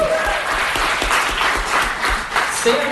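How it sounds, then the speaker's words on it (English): An audience at a live podcast recording applauds, a dense, continuous roar of clapping from a crowd, loud and steady with a voice faintly mixed in. "So round of applause for Sam"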